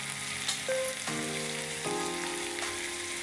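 Ginger and garlic fry in hot oil in a pan as okra is cooked with yogurt, giving a steady close sizzle with faint scraping stirs and no talk.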